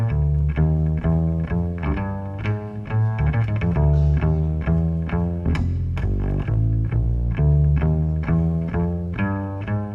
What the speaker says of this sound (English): he plays them primarily by playing pizzicato and walking the bass like this